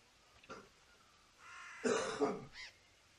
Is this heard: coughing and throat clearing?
yes